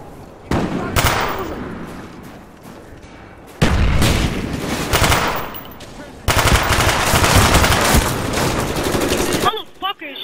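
Call of Duty: Black Ops team deathmatch on the WMD map, Xbox 360: dense bursts of automatic gunfire come in several long stretches, loud and near, broken by brief pauses.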